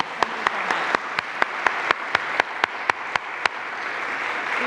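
Sustained audience applause at an interfaith community event, a dense wash of clapping with a few sharp louder claps standing out at a steady pace, filling the hall without speech.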